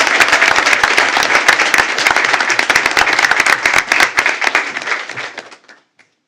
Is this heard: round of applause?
yes